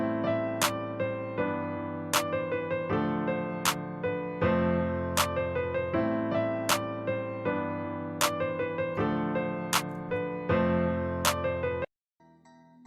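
A trap beat plays in FL Studio, with sharp clap hits landing on a regular pattern over a steady melodic loop, kick and hi-hats. The full mix runs loud and close, then cuts off abruptly near the end.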